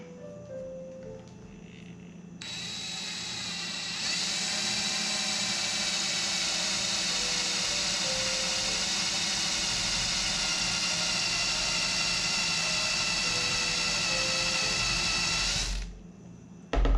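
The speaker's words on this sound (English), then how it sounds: "Let's see if we can drill a hole." Low hum at first, then a power drill drilling a hole in a fishing rod reel seat whirs up to a high, steady whine and runs for about twelve seconds before stopping abruptly.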